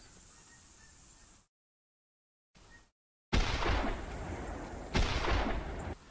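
Shotgun blasts aimed at a flock of Canada geese in the hunting game theHunter Classic: two loud, close booms with rolling reports, coming after a quiet stretch broken by silent gaps.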